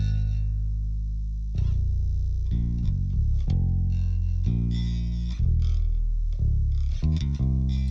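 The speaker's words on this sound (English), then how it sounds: "So you get distortion on the top and you get tape and some warmth on the bottom" A gospel keyboard and bass mix in Pro Tools with a stock distortion plugin on the top end and tape saturation warming the low end, playing chords loudly and continuously with a heavy, gritty bass foundation.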